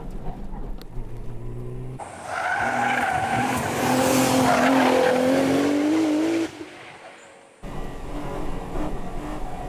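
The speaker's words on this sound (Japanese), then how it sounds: "まずはブレーキを確かめる。" A race car brakes hard on a mountain pass, its tires squealing loudly in a long rising screech over engine roar for several seconds. The engine then drops away to a brief lull before picking up again.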